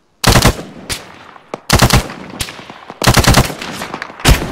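Bursts of automatic gunfire from the military shooter game Arma 3, loud and close, fired in four separate rapid volleys with short gaps between them and no talk over them.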